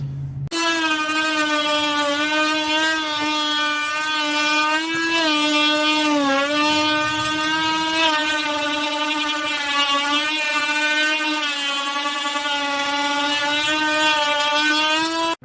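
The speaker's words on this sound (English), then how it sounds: "So I'm gonna go ahead and get this thing sanded down" A power sander runs continuously on a scrap wood surfboard decoration, a steady strong motor whine with harmonic tone that wavers slightly as pressure shifts, loud and close with no talking.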